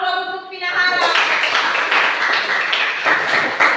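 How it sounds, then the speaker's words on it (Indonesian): Applause from a classroom audience for a student presenter, a steady broadband patter of many hands clapping that starts after a short spoken phrase and continues throughout at moderate loudness. "Aplaus untuk Pinahara"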